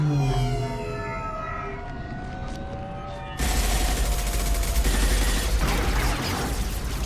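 A tense, rising siren-like tone plays in the Mass Effect 2 video game, then abruptly gives way to loud, sustained automatic gunfire that roars continuously for several seconds, with no speech.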